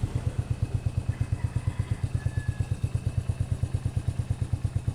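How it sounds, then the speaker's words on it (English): A motorcycle engine fitted with an aftermarket pipe idles close by, putting out a steady, even, rapid thumping pulse with light mechanical clatter. The motor is old and has had a replacement piston. No one speaks. "ito na po yung andar na merong pipe."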